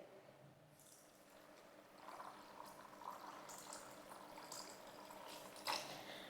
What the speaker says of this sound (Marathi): आता आपल्याला ह्याच्यात पाणी ओतायचं आहे